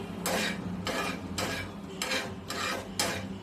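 Coriander seeds dry-roasting in a pan are stirred in six rhythmic scraping, rattling sweeps, close and clear with no talk.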